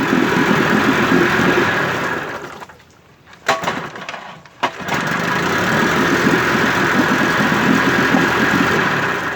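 A warmed-up 1958 Evinrude 18 HP outboard motor runs loud and close with a steady droning roar, briefly cuts out to near quiet with a few knocks, then roars back up and keeps running.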